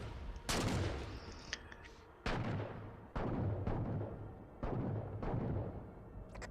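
A DMR rifle in the Halo video game fires several sharp, loud shots, spaced roughly a second apart, each trailing off into a reverberating decay, with no talking.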